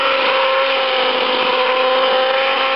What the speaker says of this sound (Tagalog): medyo mix lang natin yung ating butter with a handheld mixer hanggang maging medyo fluffy siya